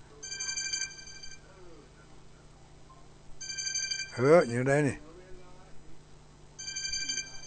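A telephone ringtone repeats in short electronic bursts, moderately loud, while a person talks over it.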